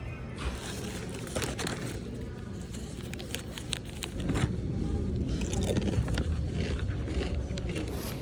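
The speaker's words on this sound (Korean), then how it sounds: "배고파서 베이글칩을 먹었고요." Crunchy, salty bagel chips are bitten and chewed in a series of close, irregular crisp crunches and scrapes that continue throughout, growing louder in the second half.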